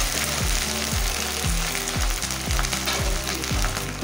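Onion, garlic and ginger paste fries in a pan with browned onions, a steady broadband sizzle underneath a regular rhythmic clatter of stirring or scraping roughly every half second, close and fairly loud with no talking.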